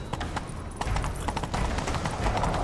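Galloping horse hooves in The Witcher 3, a fast, steady clip-clop rhythm pounding close and loud throughout, with no speech.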